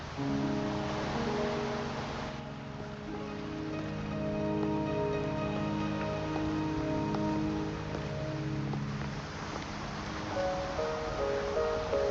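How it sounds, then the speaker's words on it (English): Steady rain falling in the video game Wuthering Waves, a continuous soft patter heard alone beneath sustained tonal game music. "Are you trapped here by the rain?"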